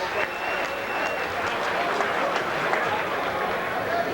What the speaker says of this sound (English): have a nice round of applause for Augustin Silva